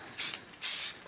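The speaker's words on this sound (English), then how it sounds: "Alright, I got a cheap can of spray paint. Gonna kind of spray this on the outsides here" A cheap can of spray paint sprayed onto knife steel, two short close hissing bursts, the second longer than the first, with a brief pause between them.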